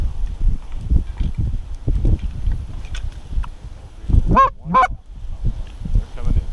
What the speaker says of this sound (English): Oh, nope, it is geese.